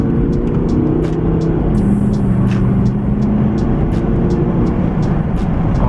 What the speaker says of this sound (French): Là je vais écraser la pédale pour faire une petite accélération.